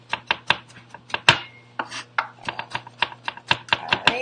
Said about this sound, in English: so I'm just mincing up my garlic